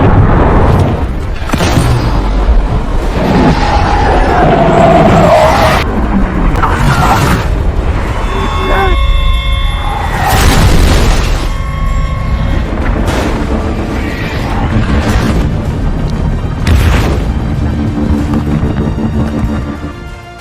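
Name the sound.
mortar attack explosions in Balkan Line war film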